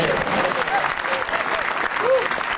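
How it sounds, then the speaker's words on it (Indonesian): Audience applause at a stand-up comedy show: dense, steady clapping from a crowd lasting throughout, loud and close, with faint voices mixed in. "sekali lagi tepuk tangan buat 3 komik yang udah tampil"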